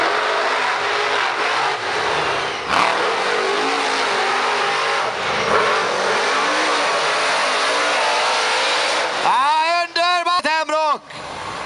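Full-size monster cars race in a final. A loud, sustained roar of engines runs under excited commentary, then near the end engines rev in sharp rising and falling bursts close by.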